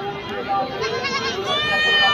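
Goats bleat among the crowd at a roadside livestock market near Hyderabad, where pregnant Barbari goats are for sale, their calls rising over steady nearby talk and the general bustle of buyers and sellers.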